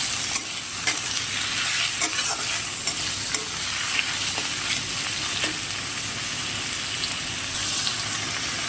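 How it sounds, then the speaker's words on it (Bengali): Chopped onions fry over a low flame for mutton kosha, giving a steady, dense sizzle with occasional crackles and light stirring scrapes throughout, close and continuous. "এর মধ্যে আমি পেঁয়াজ কুচনো পরিমাণ মতন কেটে নিয়েছি। দিয়ে এটা এবার আমি ভেজে নেব।"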